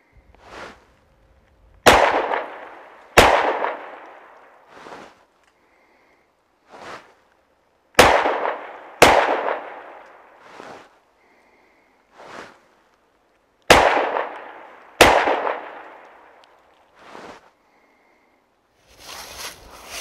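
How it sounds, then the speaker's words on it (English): A Smith & Wesson M&P 2.0 10mm handgun fires 180 grain rounds outdoors in controlled pairs, each close, sharp shot followed by a quick second, with quieter distant reports and clinks between the pairs. "So I'm going to be testing the functioning of the handgun with a fully loaded magazine as we cycle through that ammunition column."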